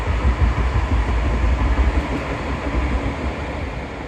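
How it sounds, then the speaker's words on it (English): A tram rumbles past close by on a Dresden city street, a steady loud rolling roar of wheels on rails that fades slightly toward the end. "Excuse the tram."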